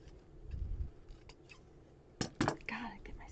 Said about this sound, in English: Gotta get my scissors done.